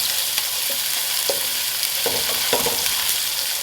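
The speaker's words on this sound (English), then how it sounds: "First thing I'm going to do is saute up these vegetables though" White onion and bell peppers sauté on the stove in a loud, steady hiss of sizzling oil, broken by a few soft stirring scrapes and no voices.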